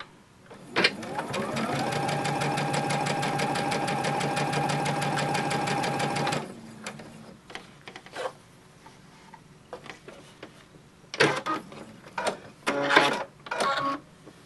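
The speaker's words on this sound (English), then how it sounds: "Lower the presser foot. Press go." A sewing machine fitted with a quarter-inch foot stitches quilt pieces in a loud, rapid, steady mechanical run for about six seconds, then stops, followed by scattered rustling and clicks as the fabric is handled.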